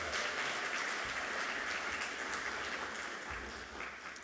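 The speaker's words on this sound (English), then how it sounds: "let's do another cheer for Clark" An audience at a college all-college meeting and awards ceremony breaks into sustained, dense cheering and applause, steady and loud throughout before easing slightly at the end.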